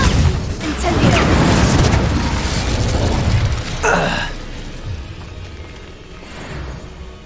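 A fire spell, Incendio, is cast in Hogwarts Legacy, producing a loud rushing, roaring blast with crackling bursts that swells and fades over several seconds, alongside a few further pops and whooshes.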